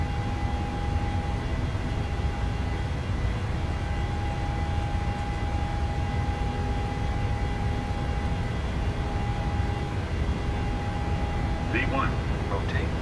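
Airliner engines at takeoff power in Microsoft Flight Simulator, a steady loud low roar and rumble running throughout with a constant tonal whine, a few brief higher chirps near the end.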